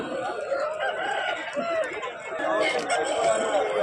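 Country rooster crowing amid the bustle of a village chicken market, one long crow rising above crowd chatter and clucking fowl, with people talking close by.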